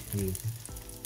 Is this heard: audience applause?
no